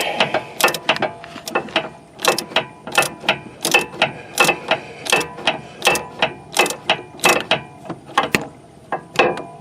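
A hand ratchet clicks in quick repeated bursts, about fifteen strokes in steady rhythm, while undoing the PTU drain plug on a 2019 Ford Edge Titanium AWD, close up and without speech.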